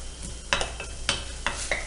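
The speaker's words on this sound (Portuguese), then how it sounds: "Vou fritar essa cebolinha aqui." Green onions frying in a little oil, with a low steady sizzle underneath and several sharp stirring or scraping strokes against the pan recurring about every half second, close and moderately loud.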